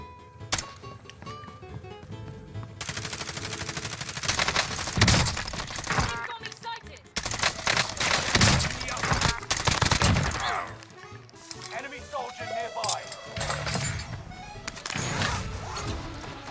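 Bursts of rapid gunfire from Call of Duty: Warzone crackle repeatedly over a busy game soundscape, some shots near and sharp, others quieter, with scattered impacts and clatter.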